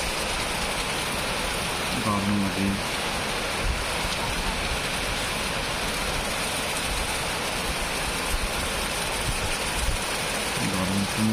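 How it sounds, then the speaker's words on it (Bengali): Steady rain falling outdoors, a loud, even wash of hiss filling the whole stretch, with a person briefly speaking twice over it. "বৃষ্টি"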